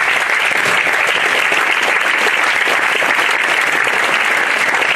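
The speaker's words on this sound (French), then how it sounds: "Je vous propose d'applaudir Didier Sicard." An audience applauds to welcome a speaker at a French talk event, a loud, dense, continuous wash of clapping that holds steady throughout, with no voices over it.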